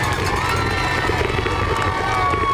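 Spectators packed along the Boston Marathon course near Kenmore Square, by Fenway Park, cheering runners in 2014, a dense continuous roar of crowd noise and shouts with a commentator's voice faintly underneath.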